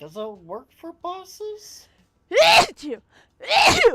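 A person speaks briefly, then sneezes twice in quick succession, both sneezes loud and close, with short pauses between them.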